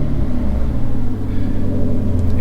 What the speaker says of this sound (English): this car is super loud